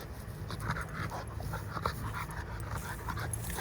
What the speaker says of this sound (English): you hear the snorting.